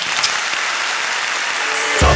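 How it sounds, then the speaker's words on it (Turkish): Steady crowd applause fills the clip, a dense wash of clapping that swells slightly at the end. "Alkışlarınızla."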